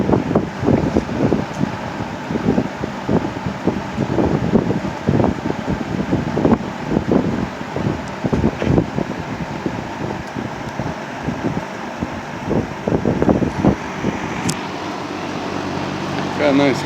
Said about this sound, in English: Definitely a good running fan.